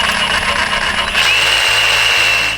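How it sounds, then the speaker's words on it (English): A power grinder cuts into metal fencing material nearby, a loud sustained whine with a rising high-pitched screech as the disc bites in, running continuously without pause. "Now we're going to try the grinder on one."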